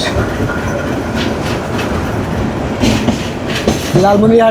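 A local train on the Lalmonirhat to Burimari line rumbles along the rails with a steady close clatter of wheels, ending in a brief metallic squeal.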